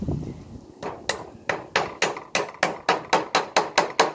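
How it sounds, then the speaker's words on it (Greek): A small hammer taps at a tile to remove its adhesive, about a dozen sharp, close knocks in a quick, even rhythm, with no talking. "και το ανάλογο σφυράκι,"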